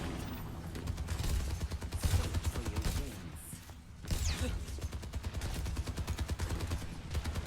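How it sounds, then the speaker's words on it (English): Rapid gunfire from the Overwatch video game during a competitive esports match, dense bursts of shots rattling almost continuously across the clip, loud and close, with a brief lull in the middle before the firing resumes. "Solid shots there coming from Lil Big"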